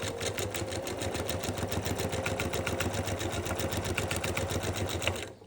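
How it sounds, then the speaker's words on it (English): A sewing machine stitches across the joined ends of a quilt binding, running steadily with a fast, even needle rhythm and motor hum for several seconds, then stopping, close and clear with no talking. "we will stitch that little line to get those two binding ends"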